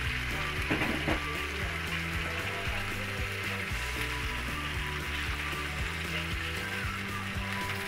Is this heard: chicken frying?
yes